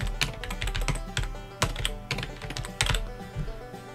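Keys clatter on a computer keyboard at a close, steady typing pace, with a few heavier keystrokes standing out among the rapid clicks.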